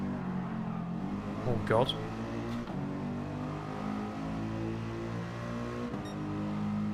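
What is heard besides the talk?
race car engines revving in video game Gran Turismo 7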